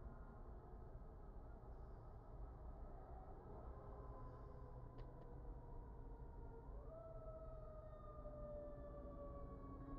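Faint, distant emergency sirens heard through an open window wail and shift pitch slowly over a steady background hum, with no voices.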